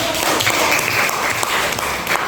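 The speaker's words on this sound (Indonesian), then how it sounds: "tepuk tangan dulu" A classroom of students clapping together during a lesson, a steady, fairly loud patter of many hands that continues throughout.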